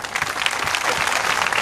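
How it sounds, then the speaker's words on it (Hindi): Audience clapping at a Shrimad Bhagwat Katha religious gathering, dense and steady for a moment, close and fairly loud with no talk over it. "निकले तो 2 बार तालियां हो जाए"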